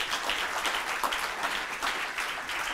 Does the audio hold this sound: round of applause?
yes